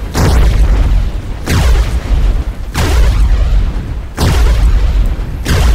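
Robot weapon fire in the World of Robots video game, with the SHR-53 robot and a green laser: four loud, heavy booming blasts about 1.3 seconds apart, each with a deep low rumble that decays until the next shot.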